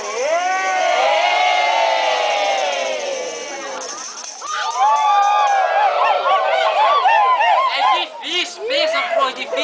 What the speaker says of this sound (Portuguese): Pode meter a vaia, meu filho.